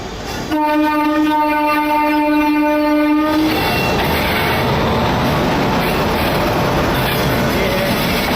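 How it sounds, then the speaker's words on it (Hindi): A passenger train hauled by a Howrah-shed WAP7 electric locomotive approaches, sounding a loud sustained horn blast for about three seconds, followed by a continuous rumble and rattle of the passing coaches. "सामने से कोई हावड़ा सेड के साथ WAP7 के साथ कोई ट्रेन आ रही है"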